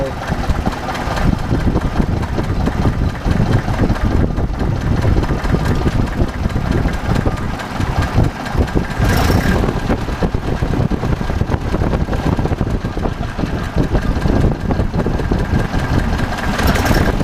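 A 1954 Ford Jubilee NAA tractor engine idles after a carburetor replacement, a loud, close, steady rumbling chug with fast rhythmic pulses that holds even throughout, with a voice briefly heard over it.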